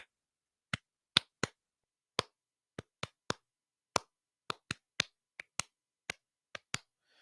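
Sharp isolated hand claps or snaps tapping out an irregular speech-like rhythm, imitating a wrestler's way of talking, about fifteen distinct hits spaced unevenly with silence between them, close and clear.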